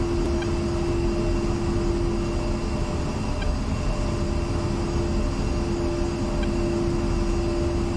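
An A-10C Warthog jet's engines drone in DCS World over the Persian Gulf, a loud, constant whine and roar holding steady throughout.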